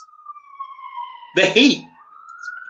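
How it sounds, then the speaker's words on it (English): A steady siren wails near, then a burst of voices and laughter briefly covers it before the siren carries on. "Sorry for the sirens."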